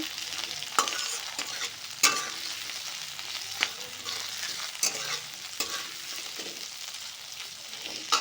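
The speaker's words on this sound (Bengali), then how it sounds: "এখন এগুলোকে একটু ভেজে নেব" Chopped onions and green beans sizzle steadily in a hot pan, with occasional sharp scrapes and clicks of a stirring spoon over a continuous close, moderately loud frying hiss.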